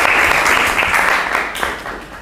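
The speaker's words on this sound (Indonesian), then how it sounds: "tepuk tangan dong untuk Anin Dita sama Aiga." Students in a mathematics class applaud two classmates, a short burst of close clapping that starts loud and gradually thins out over about two seconds.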